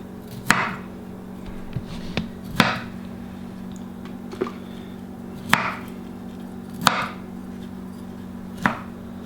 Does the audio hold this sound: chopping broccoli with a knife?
yes